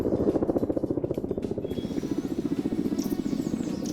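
An Mi-24 helicopter in a PvP video game match thrums with a fast, steady rotor chop, droning continuously and fairly close throughout with no talk.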